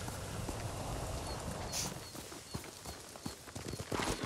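Hooves of a horse in the video game Ghost of Tsushima clip-clop at an uneven walking pace over a faint ambient hiss, with a few soft thuds and a brief chirp.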